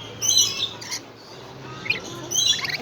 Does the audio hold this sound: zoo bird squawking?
yes